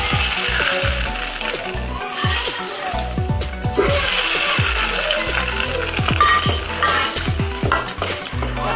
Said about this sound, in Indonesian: Sekarang kita siram dengan minyak.